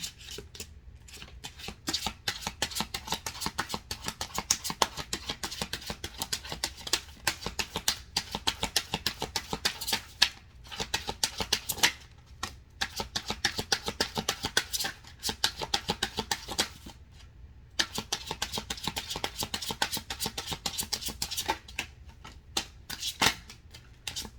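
Tarot cards shuffled by hand in long, steady riffling bursts of crisp papery flutter, broken by a few brief pauses, close and fairly loud with no talking.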